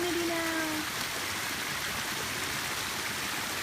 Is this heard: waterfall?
yes